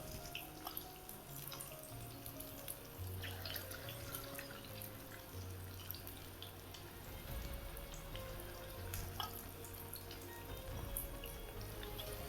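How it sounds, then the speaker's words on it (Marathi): Vegetable Manchurian balls frying on low heat in oil in a kadhai, a soft, even bubbling and crackle with scattered small pops, fairly faint and continuous. "बारीक गॅसवर तळायचं"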